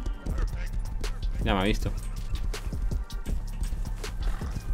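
A horse runs in Rust gameplay with quick hoof clip-clops and a brief whinny, close by, while someone talks in Spanish over it.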